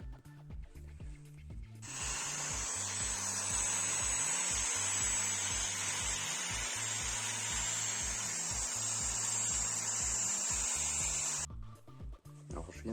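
Cloth buffing disc spinning against a Kawasaki Z900RS swingarm with polishing compound, a loud continuous high whir that starts suddenly, holds steady for about ten seconds and stops, over a low motor hum.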